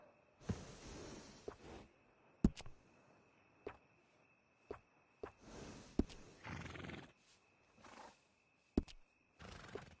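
Several horse whinnies and snorts in the game Red Dead Redemption II, scattered across the stretch in short bursts between quieter gaps, with a steady faint tone underneath.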